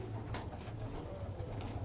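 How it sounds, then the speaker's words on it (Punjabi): Old teddy pigeons coo in a low, steady murmur, close and continuous throughout with no speech. "ਸਭ ਪੁਰਾਣੇ ਕਬੂਤਰ"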